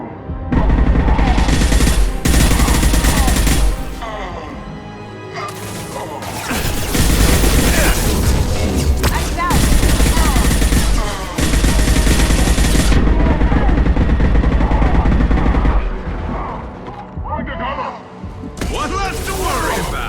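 Heavy gunfire in the sci-fi shooter game Mass Effect 2: loud sustained bursts of rapid weapon fire and booming impacts, broken by brief lulls, with combat shouts mixed in.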